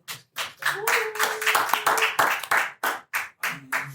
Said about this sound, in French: Est-ce qu'on peut applaudir pour Janine Gaël?